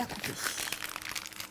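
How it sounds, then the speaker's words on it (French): A plastic piping bag is twisted and cut during preparation of a three-chocolate Christmas log, giving quiet close crinkling and rustling plastic throughout. "On va venir récupérer notre poche. On va venir la tourner et la couper."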